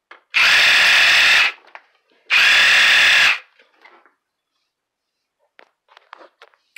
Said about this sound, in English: I'm going to pulse it a couple times and see how much more powerful the sound is